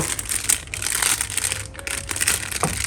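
Close, continuous crinkling of a plastic bag being handled while fitted over a glass, rustling and crackling in uneven bursts with a few sharper crunches.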